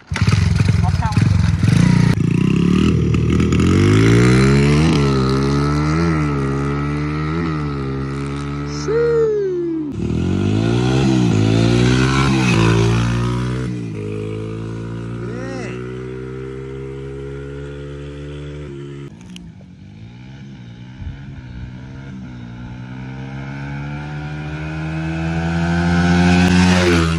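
A Honda CRF100 motorcycle running on E-85 fuel revs hard at high RPM and power-shifts through gears, its engine note climbing in repeated rising sweeps with brief dips between shifts, loud and close for the whole stretch.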